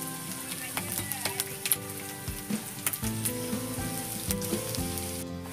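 Snail curry with Kashmiri chili and spices frying in a pan, a steady close sizzle broken by frequent sharp scraping stirs and clinks of a spoon, with no talking.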